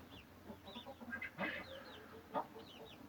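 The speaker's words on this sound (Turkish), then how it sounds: "Burada bir tane Arap horozumuz var" A young Aseel (Arab) rooster bred from quality stock clucks softly in a coop, with other birds chirping faintly in the background.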